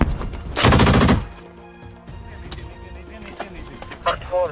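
A PKM machine gun fires in a short, loud burst near the start while assault troops clear a basement entrance in a combat zone, followed by fainter scattered shots and clatter.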